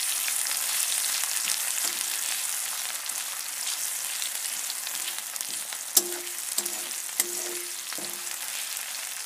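Onions and spices frying in a pan, a steady close sizzle throughout with a few light clinks of a utensil near the end.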